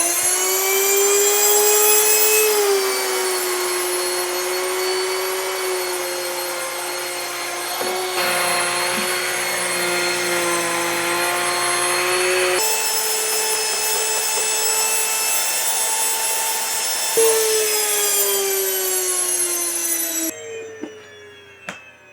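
An electric grain mill grinds spelt into flour with a loud, steady high-pitched whine and rushing roar that shifts pitch a few times, then cuts off near the end.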